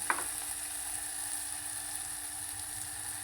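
Garlic paste fries in hot oil with a steady, continuous sizzle at close range, and a brief clink near the start as chili powder goes in. Nobody speaks.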